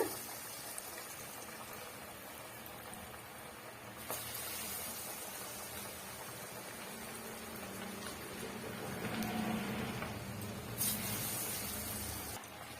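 Masala vada fritters sizzle in hot oil on a medium flame, a faint, steady hiss and bubbling that swells slightly at a couple of moments, with no talking.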